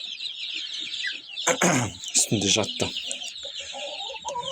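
A broody domestic hen clucks in short low bursts while her newly hatched chicks cheep in a steady high-pitched chorus close by; a person speaks briefly over them.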